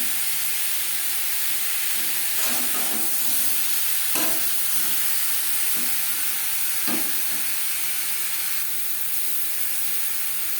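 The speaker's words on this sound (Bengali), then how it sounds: "আম হালকা করে ভেজে নেওয়া হয়ে গেছে" Mango pieces with turmeric fry lightly in hot oil for a chutney, a loud continuous hissing sizzle broken by several brief scrapes and stirs of a spoon in the pan.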